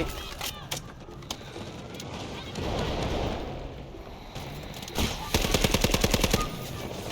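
Gunfire in the mobile shooter Delta Force Mobile comes in scattered single shots and short bursts, ending in a rapid automatic volley, set over game ambience and background noise.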